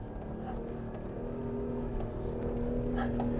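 An off-road vehicle's engine drones steadily while it drives through snow, a loud, close and continuous low rumble with a faint whine on top.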